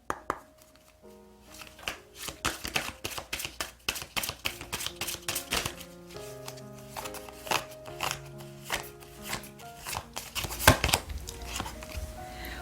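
Tarot cards being handled and shuffled, quick papery flicks and taps coming in rapid irregular bursts over quiet background music.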